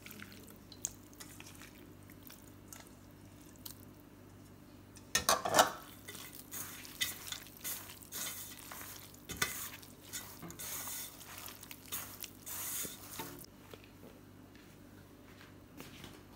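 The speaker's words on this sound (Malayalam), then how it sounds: "ഇനി നമുക്കിതെല്ലാം കൂടെ ഒന്ന് മിക്സ് ചെയ്തെടുക്കാം. നമുക്ക് ചിക്കൻ ചേർത്ത് കൊടുക്കാം." Chicken pieces are tossed with spice powder in a bowl for Chicken 65, making soft, intermittent wet stirring and scraping sounds that grow busier midway, close and fairly quiet, with no talking.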